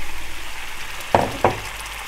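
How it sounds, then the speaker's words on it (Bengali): Tomato puree hitting a hot pan of fried turmeric and chili powder for rohu fish kalia, two sharp sizzling bursts in quick succession after a quiet simmer. "এখন এই হলুদ আর মরিচের গুঁড়াটা পুড়ে যাওয়ার আগে আমি এর মধ্যে দিয়ে দিচ্ছি টমেটো পিউরিটা"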